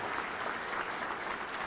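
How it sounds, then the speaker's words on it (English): Steady applause from a banquet audience at a military veterans' hall of fame induction dinner, a dense, even wash of many hands clapping throughout with no pauses. "Give these folks a big round of applause"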